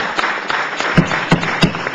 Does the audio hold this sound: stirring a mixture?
no